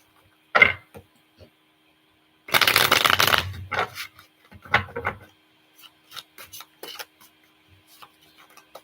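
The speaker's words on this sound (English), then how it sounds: "well, let's pull a card real quick and see." Tarot cards being shuffled during a live reading: a flick, then a dense riffling burst of about a second, followed by softer scattered card taps and slides, close and alone without talk.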